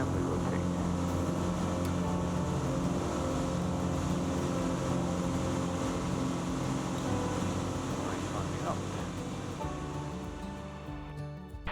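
Piper Cherokee Six single-engine light aircraft climbing after takeoff from Blackbushe, its engine a loud, steady drone that fills the cabin throughout and eases slightly near the end.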